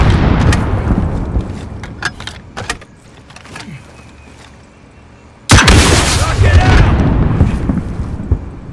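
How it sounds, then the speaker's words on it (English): RPG rockets slam into a garage in the Call of Duty: Modern Warfare battle royale, loud booming explosions with sharp bursts early, a quieter lull, then a heavy blast near the end followed by sustained roaring debris. "bomb your RPGs into that garage"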